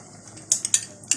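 A spoon clinks and scrapes against a pot while food is mixed, four or five sharp metallic taps in quick succession, close and fairly clear with no talking.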